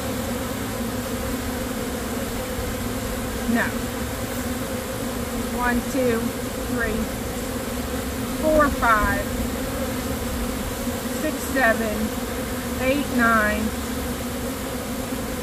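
Honey bees on a queen rearing bar from a Nicot system hum in a dense, steady drone close by, while a voice talks over the buzzing throughout.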